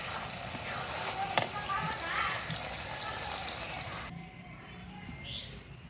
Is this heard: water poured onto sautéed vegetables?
yes